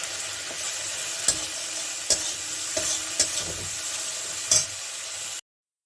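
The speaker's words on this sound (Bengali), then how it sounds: "এখন আমার মশলাটা ভাজা হয়েছে" A paste of poppy seed, ginger and green chilli with a little turmeric fries in a pan, a steady close sizzle broken by several sharp spatula knocks before it suddenly cuts to silence.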